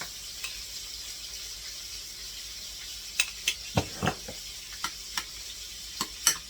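Dill relish being stirred into a bowl of tartar sauce, a string of soft wet clicks and squelches that come in short bursts, close up and quiet, with no one speaking.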